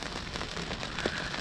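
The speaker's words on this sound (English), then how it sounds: "I'm sure you can hear the rain pitter-pattering." Steady rain pattering on a surface during a thunderstorm, a dense continuous hiss heard up close and fairly loud, with no distinct thunderclap standing out.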